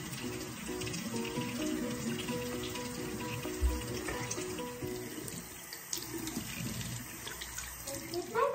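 Water runs steadily from a tap into a sink for face washing, a continuous close splashing flow with soft handling noises on top.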